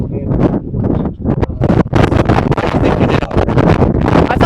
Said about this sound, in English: the weather today, it's really windy and kind of rainy out